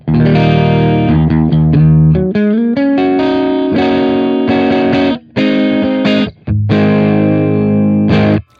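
Electric guitar played through a Master Effects JC Pre pedal with the treble turned fully down, giving loud, dark, distorted sustained chords and notes with a few short breaks between phrases.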